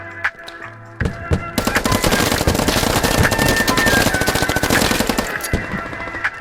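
Heavy gunfire in the military shooter game Squad: a few isolated shots, then several seconds of dense, loud automatic fire and crackling bursts, with no voices over it.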